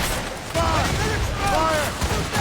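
Naval cannons boom in a rapid volley during a ship battle in Assassin's Creed Rogue, dense and continuous over roaring sea noise, with shouted voices mixed in.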